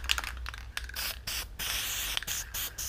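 Bursts of gloss black aerosol spray paint hissing in short and longer pulses, close and loud, with brief pauses between sprays.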